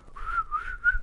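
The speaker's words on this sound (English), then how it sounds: "Whistle for everybody?" A person whistles a short, clear, wavering three-note phrase up close, alone without talk.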